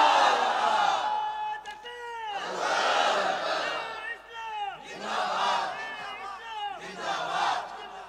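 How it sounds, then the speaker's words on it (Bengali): A large crowd at a religious gathering shouts the takbir in unison, with repeated loud bursts of collective voices rising and falling in waves and short gaps between them. "মারেন এবার তাকবীর"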